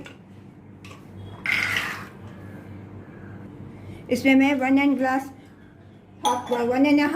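Water pours from a glass into a pressure cooker of soaked black chickpeas, two bright splashing bursts in a kitchen with someone talking before them.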